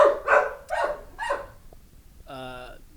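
A dog barking at night in a parking lot, three sharp close barks in a row, then a brief higher whining yelp after a pause, with people talking around it.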